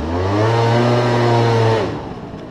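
A scooter engine revs loud and close on a sandy beach, holding a steady droning pitch before the tone drops away as it eases off.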